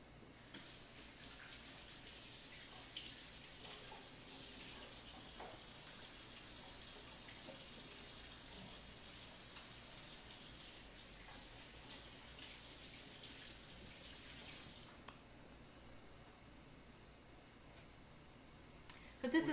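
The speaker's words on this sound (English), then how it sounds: "I'm gonna rinse my hands real quick." Water runs from a tap in a kitchen for about fifteen seconds as hands are rinsed under it, a soft steady splashing that then stops, leaving quiet room sound.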